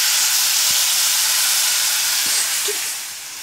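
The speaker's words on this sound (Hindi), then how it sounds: "अब इसमें टमाटर डालेंगे एक कद्दूकस किया हुआ और इसे थोड़ा सा फ्राई करेंगे" Grated tomato sizzles steadily in a hot pan of oil, a loud continuous hiss that stays even, then eases off slightly near the end, with no voices over it.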